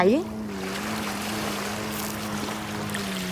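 A water scooter riding over clear sea water, a steady, moderately close motor hum with splashing water and wind, and a voice briefly audible at the start.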